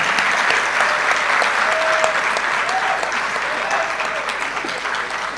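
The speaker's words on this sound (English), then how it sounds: "Oh, keep clapping." Audience at an induction ceremony for newly qualified medical and dental practitioners gives sustained, dense applause, loud and steady throughout with no break.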